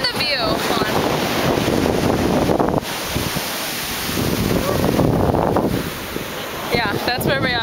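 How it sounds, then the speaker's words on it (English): Wind gusts buffet the microphone over a steady wash of surf at Palm Beach, Australia, loud and continuous, with the roar dipping and swelling a few times. "We're at Palm Beach right now."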